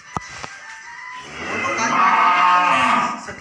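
A cow on a cattle farm lets out a long, loud, drawn-out moo that swells and holds near the microphone, preceded by a couple of faint knocks.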